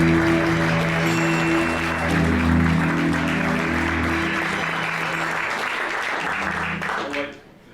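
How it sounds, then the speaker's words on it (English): A live comedy audience in Columbus, Ohio claps and cheers loudly to welcome a comedian on stage, a steady roar of applause that fades away near the end. "I'll wait for the applause to die down"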